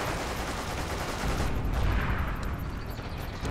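Sustained gunfire and explosions from the video game Forgotten Hope 2 pile into a dense, loud barrage, with a sharper rattle of rapid shots cutting through after the midpoint and no speech.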